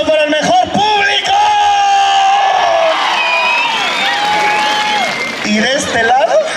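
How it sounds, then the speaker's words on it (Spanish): Crowd at a jaripeo in Tamazulapam del Espíritu Santo applauding and cheering, loud and sustained, with shouts and whoops, music and an announcer's voice running over the noise. "Un aplauso para el mejor público."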